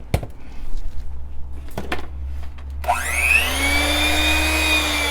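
An electric mixer whirs into a loud, steady rising whine as it beats lemon cake batter, after a few light clinks and quiet kitchen handling noises.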